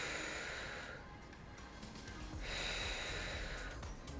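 Two soft, breathy exhales, close and fairly quiet, separated by a brief pause, from a person squeezing resistance bands closed during standing chest flies.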